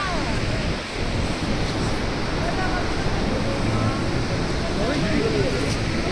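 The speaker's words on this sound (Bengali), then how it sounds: "এই সরস্বতী নদীটা যেখানে নিচের দিকে ঢুকে যাচ্ছে" The Saraswati river rushes at Mana village near Badrinath, a steady, loud, close roar of flowing water that never lets up, with voices talking over it.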